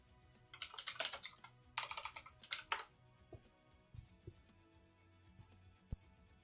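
Computer keyboard typed on in bursts of rapid, close keystrokes during an online game match, followed by a few isolated, sparser key clicks and taps.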